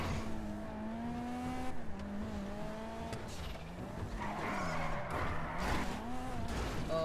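A car driving in Grand Theft Auto V, engine whine rising and falling with tire squeals and skids, game audio steady and moderately loud with no voices.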